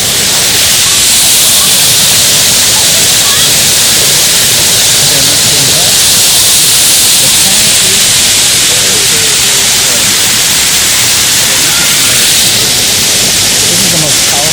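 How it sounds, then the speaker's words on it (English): The most powerful waterfall at Diana's Baths in New Hampshire's White Mountains, a loud, steady rushing roar of falling water that holds unbroken and close throughout. "this is the most powerful waterfall"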